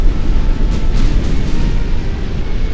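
A warship in the naval battle game Ultimate Admiral Dreadnoughts takes a heavy explosive hit, a loud, dense rumbling blast sustained throughout with a few sharper bursts layered over a deep low roar.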